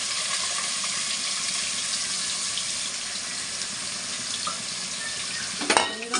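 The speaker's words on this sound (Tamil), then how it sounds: "வெங்காயத்தை நன்றாக வதக்கவும்." Onions for biryani sauté in a pan with a steady, close, bright sizzle that holds evenly, then a brief clatter of stirring near the end; no voices.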